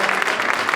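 A brief, dense burst of audience clapping at a 2023 POPLI civil rights restoration event greets Brother Kevin Reese, loud and close, with no clear speech.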